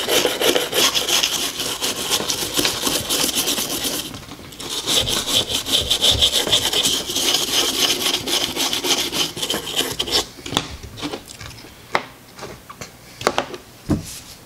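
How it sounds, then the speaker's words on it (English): Vigorous scrubbing on the connectors of a used Game Boy Advance SP, a dense, steady rasping rub that fills the first ten seconds, then thins into scattered scrapes and a few sharp taps. "it's not a bad idea to give it a good cleaning and a good scrub down like this"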